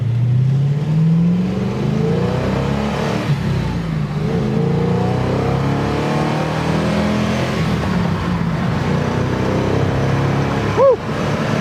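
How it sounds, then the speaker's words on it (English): A 1967 Ford Mustang's throaty engine accelerates hard from inside the car, the loud rising pitch sweeping upward through gear changes with a steady roar and no talk. "A lot of on-demand acceleration right there."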